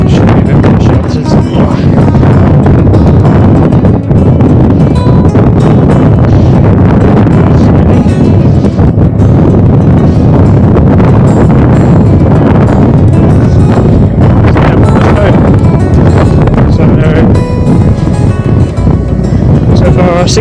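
Strong wind buffets the microphone while riding a big, heavy fat bike along a canal towpath, a loud continuous low roar with gusty surges throughout.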